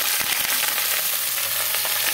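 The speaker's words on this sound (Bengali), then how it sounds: "আদাটা একটু ভাজা হয়ে গিয়েছে, আমি এবার সবজিগুলো দিয়ে দিচ্ছি।" Raw vegetables tipped into a pan of frying ginger for a Bengali shukto with shing fish, giving a loud, steady sizzle with occasional stirring scrapes and no talking.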